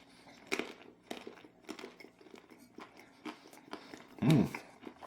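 Close, quiet crunchy bites and chewing of Swedish Scandic farmer cheese topped with sweet almonds, with soft irregular mouth sounds and one louder muffled crunch near the end, no speech.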